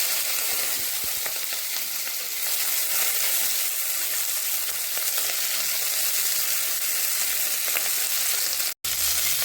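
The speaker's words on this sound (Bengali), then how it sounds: "যে তেল ছিল সে তেলের ভিতরে ক্যাপসিকামটা ভেজে নেব।" Capsicum fries in leftover oil from frying mushrooms, with a dense, steady close-up sizzle and faint stirring throughout, then a brief cut near the end.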